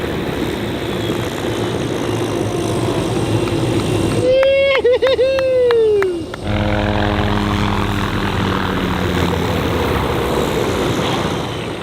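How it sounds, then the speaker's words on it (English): A training helicopter during an engine-off autorotation landing: turbine and rotor drone with a sweeping whine that shifts pitch as the engine winds down, then a steady rotor hum, with radio or cockpit voices in between. "we all got the chance to do our first hold down, engine off, auto rotation landings"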